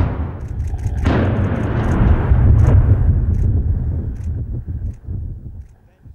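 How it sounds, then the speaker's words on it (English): A deep explosion aboard the wrecked cargo ship MSC Napoli off the East Devon coast, a sudden loud blast followed by a long low rumble that fades over several seconds, heard from a distance. "All this week, people have been queuing up along the East Devon coast to see explosions take place"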